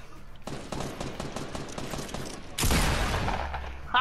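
Rapid automatic gunfire from the Black Ops 4 video game rattles in a quick, even burst, then a louder, denser volley of shots and impacts erupts near the end.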